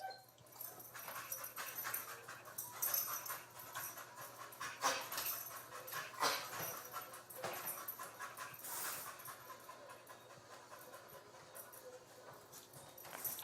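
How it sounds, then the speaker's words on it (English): A dog breathes heavily and pants close by in a rhythmic series of soft, raspy breaths, quiet but continuous throughout. "I always got to deal with hearing a mutt breathe."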